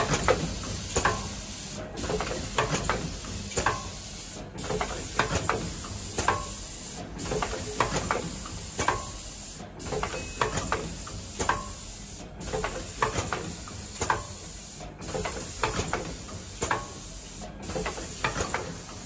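An automatic screen printer for plastic PP cups feeds cups in a continuous mechanical whir with a steady high whine, broken by regular short pauses or clunks about every two and a half seconds, loud and close.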